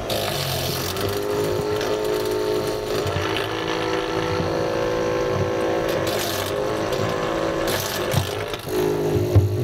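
A small engine runs after methanol is squirted into its intake, giving a close, steady buzzing drone with a slightly rough, sputtering edge throughout.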